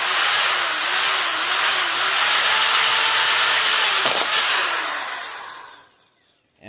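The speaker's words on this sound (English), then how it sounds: "Pulse the screwdriver." A power screwdriver whines loudly and steadily as it drives screws into electric unicycle pedals with grip tape, a close, sustained motor drone that winds down and stops near the end.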